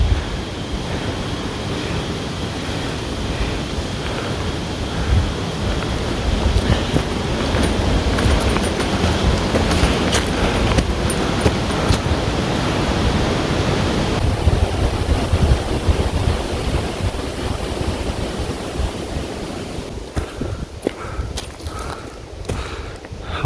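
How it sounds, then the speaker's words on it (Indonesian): Strong wind blowing across a mountain trail between camp posts at dusk, a continuous loud rushing roar with gusts buffeting the microphone for the whole stretch, no voices. "Anginnya bertiup kencang sekali."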